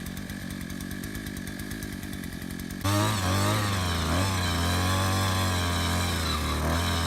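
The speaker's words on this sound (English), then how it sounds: "But I'm gonna start this auger and bring it over here and start digging a hole." A powered earth auger's small engine sputters rhythmically, then revs up sharply into a loud, steady drone as it bores a hole in the ground near a south wall, continuing close and unbroken with no talk.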